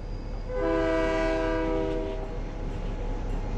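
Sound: train horn and passing train in a video game

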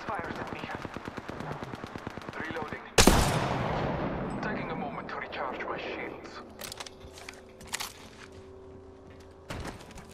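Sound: gunfire in the video game Apex Legends

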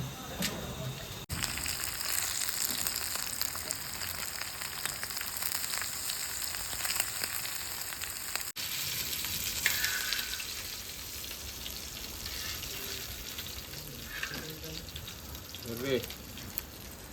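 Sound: halwa fish frying in a pan

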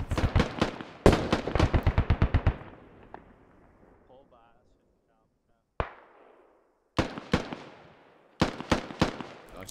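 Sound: automatic rifle gunfire in a video game (SquadOps)

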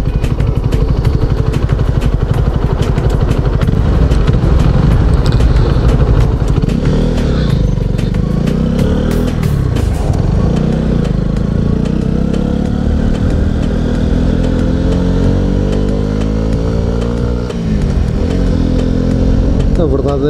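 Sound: Honda CB125R motorcycle engine running with stock exhaust

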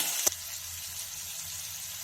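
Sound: cauliflower and peas frying lightly in a pan

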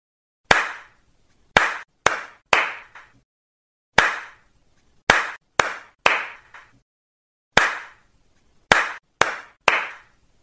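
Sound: hand claps in a counting pattern

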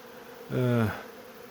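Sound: robber honeybees sniffing around hive frames

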